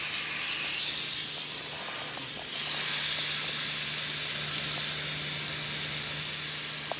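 Chicken pieces for grilled chicken pitas sizzle steadily in a hot pan, a continuous close hiss with faint pops and a low hum, swelling slightly midway and carrying on without talk.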